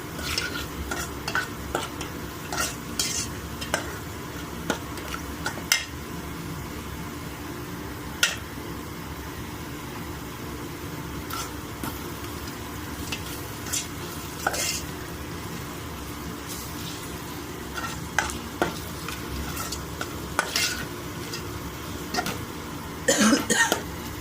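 Three eggs frying in a pan for egg fried rice, a soft steady sizzle with intermittent scraping stirs and clinks, fairly faint, with a brief cough in the background.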